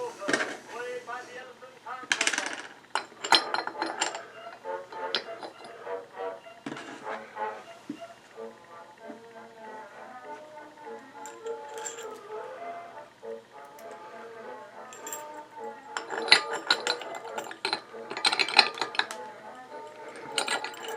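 Hand coffee grinder being reassembled, its metal shaft slid back in and lined up with the holes, giving soft scattered clinks, taps and small metallic scrapes, close and fairly quiet.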